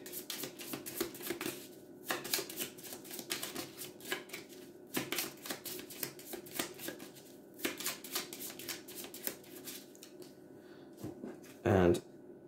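Lord of the Rings card game cards being shuffled and handled on a table, with quick riffling and snapping bursts in irregular clusters, close and fairly soft, while a person talks over them.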